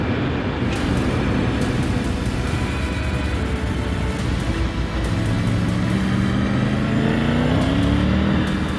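A Triumph Tiger 900 motorcycle engine drones steadily as it turns off a sealed alpine road onto a dirt road, with wind noise and a slowly shifting engine pitch throughout.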